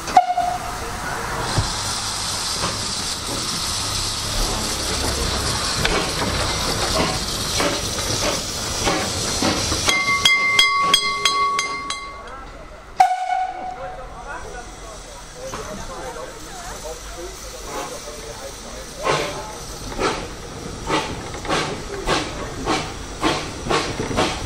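A narrow-gauge steam train departs between Bruchhausen-Vilsen and Asendorf, its loud steam hiss running steadily until a sharp whistle blast. The hiss breaks off abruptly, then returns under rhythmic chuffing that grows into regular puffs as the train pulls away.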